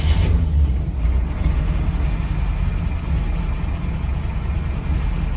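Engine of an original 1970 Z28 Camaro, off the road since 1980, turning over on its starter button; a loud, continuous low rumble close by, steady throughout without pause.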